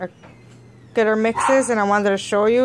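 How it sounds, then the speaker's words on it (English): A dog barks and yips a few times close by, mixed with someone talking over it. "Excuse my stupid dog."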